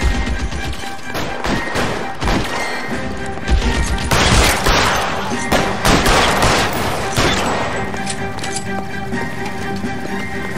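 A shootout in the video game LA Noire, with dense overlapping gunfire, bursts and crashes forming a loud, continuous barrage that gradually eases toward the end.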